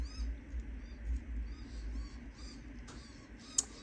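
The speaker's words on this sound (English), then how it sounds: "You can hear the birds outside." Birds calling outside with a cat nearby: faint, distant chirps and short high calls over a low steady background hum, with one brief sharper call near the end.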